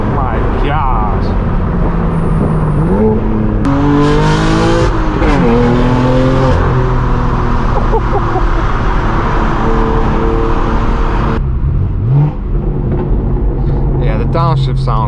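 A loud BMW M4 G82 engine revs up and drops through downshifts, with rising and falling exhaust tones over continuous road noise and some talk.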